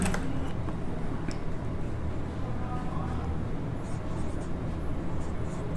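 Chalk or marker scratches and taps steadily across a board as a teacher writes notes during a biology lesson on animal nutrition, close and continuous over a low room hum.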